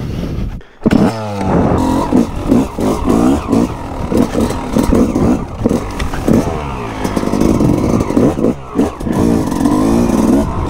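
A motorcycle engine runs close by after the Touquet beach race, revving and dropping repeatedly in a choppy, loud rhythm with clattering mechanical noise between throttle bursts.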